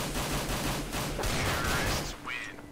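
Gunfire in the video game CS:GO: a dense series of shots crackles in the foreground over a heavy, steady game-sound bed for nearly three seconds, then eases into quieter ambience near the end.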